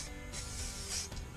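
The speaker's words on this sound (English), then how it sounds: "Each time you hear that noise coming out of the tin, it's the pressure fluctuating" An aerosol tin of spray paint hisses as it coats a caravan wheel, a broad airy spray that surges and dips unevenly over a second and a half, close and fairly loud.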